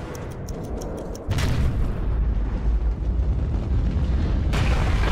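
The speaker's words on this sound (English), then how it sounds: "A big explosion's gonna happen, I know." A heavy explosion from the video game Metro 2033 Redux bursts out after a short lead-in and becomes a loud, sustained rumbling roar, followed by a second surge near the end.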